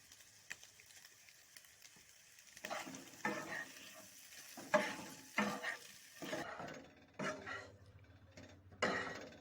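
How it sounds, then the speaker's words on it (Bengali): Cauliflower pieces are stirred as they fry in a pan for a chilli cauliflower roast, a quiet sizzle broken by a series of scraping, clattering strokes of the spatula against the pan. "চার মিনিট নেড়ে নিলাম"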